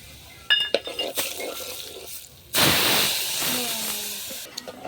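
Red Everest masala and ground spice paste hitting hot oil in a pot over a wood-fired chulha for chicken curry, bursting into a loud steady sizzling hiss after scattered clinks of utensils, fading slightly toward the end.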